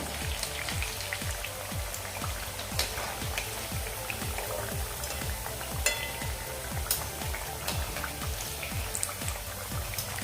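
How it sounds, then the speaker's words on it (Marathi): Palak vadi, crisp rolls of spinach and gram flour, fry in hot oil over a medium-low flame, giving a dense, steady crackling sizzle that runs unbroken and close throughout, with no voices. "मीडियम टू स्लो फ्लेमवरती या वड्या तळायच्या आहेत"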